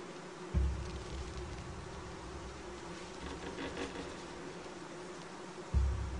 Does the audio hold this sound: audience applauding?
no